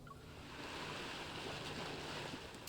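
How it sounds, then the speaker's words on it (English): Ocean waves in a video game wash in as a steady, soft roar of surf with no distinct breaks, heard alone as a continuous background bed. "Why do I hear waves in the background?"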